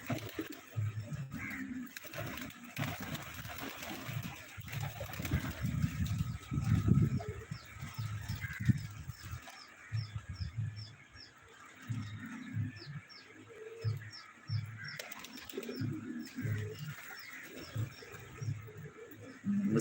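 Pet pigeons coo at home in low, repeated throaty bursts at close range, with light chirps and rustling around them throughout.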